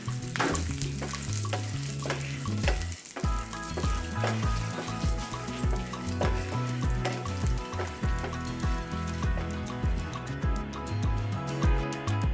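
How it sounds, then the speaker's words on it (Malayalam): Toor dal, urad dal, black pepper and dried red chillies roast in a pan with a continuous sizzle and repeated stirring scrapes, over steady background music. "പിന്നെ നമുക്ക് ഉഴുന്നുപരിപ്പും കുരുമുളകും പറ്റൽമുളകും കൂടി ഇട്ട് കൊടുത്തതിന് ശേഷം അല്പസമയം നമുക്കൊന്ന് ഇളക്കിയിട്ട് കൊടുക്കാം"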